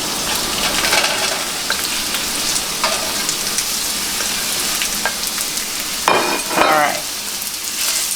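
Vegetables browning in a hot pan in a home vegetarian kitchen, giving a continuous close sizzle and frying crackle with occasional stirring scrapes and a brief louder burst of spitting toward the end.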